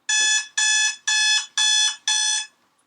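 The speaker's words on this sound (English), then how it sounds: "mine's just a boring alarm clock." An alarm clock rings in five loud, even bursts of bright electronic beeping, each about half a second long and separated by short gaps, then stops.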